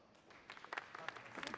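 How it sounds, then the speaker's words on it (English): Light, scattered applause from a film audience in Wicked, soft and distant, with a voice talking faintly alongside the brief patter of claps. "They really didn't even like clap that hard for him."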